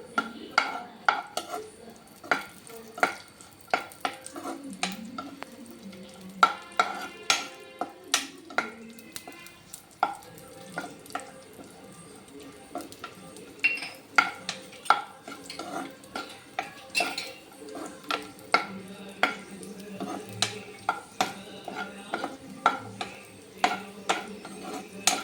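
Raisins stirred and fried in a pan for millet payasam, a spoon clinking and scraping against the metal in a steady irregular rhythm of sharp taps over a faint sizzle, close and alone.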